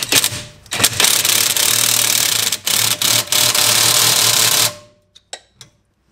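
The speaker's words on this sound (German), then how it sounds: "So, und dann schrauben wir alles einmal wieder fest." Bolts on a BMW E39 sway bar link being tightened with a power tool, a loud continuous mechanical whirr and rattle running for several seconds with short breaks, then stopping into quiet with a few faint clicks.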